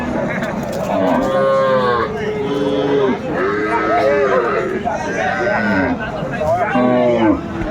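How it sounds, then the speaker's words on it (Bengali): Sahiwal cow mooing at a busy cattle market, several long, loud harmonic moos in a row over constant crowd chatter and people talking nearby. "শাহিওয়াল জাতের গাভী"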